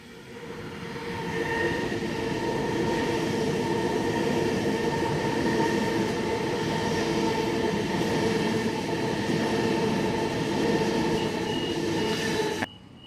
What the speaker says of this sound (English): let's have a look at the Waratah Series 2 B2 delivery and its subsequent testing